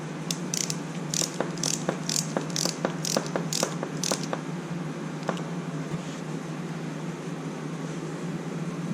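A ratchet tightens the front brake bolt on a 1985 Honda Shadow 700 motorcycle, giving a rapid series of sharp clicking strokes close up that stop about halfway through, leaving quiet background hum.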